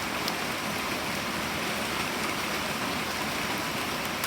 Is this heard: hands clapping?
no